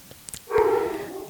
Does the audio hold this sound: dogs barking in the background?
yes